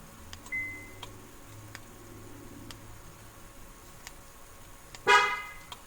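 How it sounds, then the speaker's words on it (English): A 2008–2012 Honda Accord sounds a single short horn chirp as it locks by remote starter, preceded by faint clicks and a quiet car interior hum. "And there we've just locked the vehicle"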